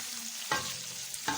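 Boiled chicken being added to a pan and stirred, with soft sizzling frying throughout and two distinct scraping stir strokes, close and moderately quiet, no talking.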